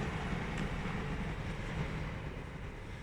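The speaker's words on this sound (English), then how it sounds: "I'm recording this train." A train passes on a railway as a quiet, steady, broad rumble that holds evenly throughout, with no voices.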